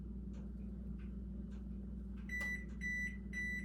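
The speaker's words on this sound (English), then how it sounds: "Oh, my oven's ready." An oven sounds a series of three short, bright electronic beeps signalling it has finished preheating, heard over a steady low kitchen hum while scalloped potatoes with ham are being prepared.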